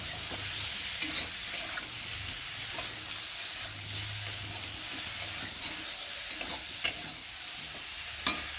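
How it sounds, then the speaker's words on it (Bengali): Eggplant and potatoes stir-fried in a spice paste, a low steady sizzle under repeated spatula scrapes and a few sharper knocks against the pan. "তো বন্ধুরা ভালোভাবে কষিয়ে নিই।"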